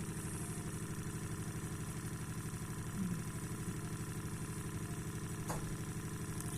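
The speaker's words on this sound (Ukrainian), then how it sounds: "то двигун дуже сильно скорость набирає" A generator motor drones with a fast rhythmic clatter, holding a constant pitch throughout, fairly quiet and with no one speaking.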